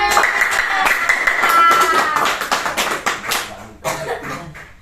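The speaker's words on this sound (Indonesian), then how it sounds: "Tepuk tangan semuanya." Children in a primary school class clap together, a loud flurry of hand claps that thins into separate sharper claps toward the end, with voices talking over and between them.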